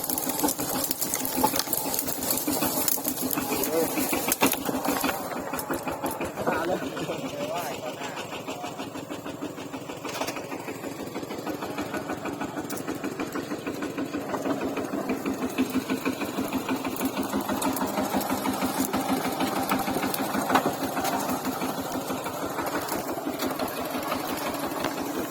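A tractor engine chugs steadily and loudly throughout, with people talking over the rattling mechanical noise.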